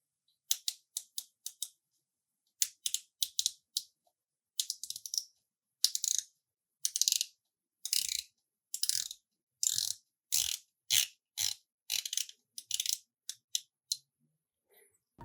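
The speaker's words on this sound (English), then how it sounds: "So the bezel is decently precise and it's very clicky." A Phoibos Kraken dive watch bezel turned in short bursts, giving sharp, close ratcheting clicks in quick runs separated by brief pauses, crisp and dry against silence.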